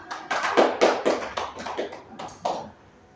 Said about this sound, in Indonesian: Tepuk tangan untuk Mirwan.